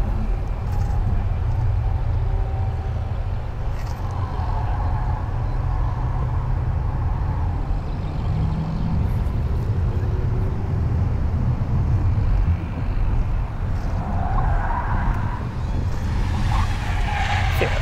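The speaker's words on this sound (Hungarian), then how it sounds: "De a gumi az cserébe az dolgozik. hogy sír és üvölt." Tires squeal and hiss under steady engine and road noise from inside a car on a lap timing run, a continuous rushing roar with brief rises, no talk.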